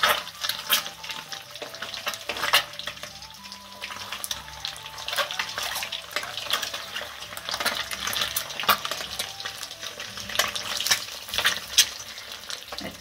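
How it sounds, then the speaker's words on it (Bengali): Eggs frying in a pan, a steady crackling sizzle with bursts of popping and spatter throughout, close and fairly loud with no talk. "ডিমগুলো ভেজে নিই, তারপরে আবার দেখাচ্ছি।"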